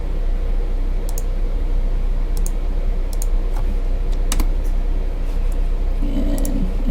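Typing on a computer keyboard while working in a CAD program, with sparse, light key clicks scattered over a steady background hum.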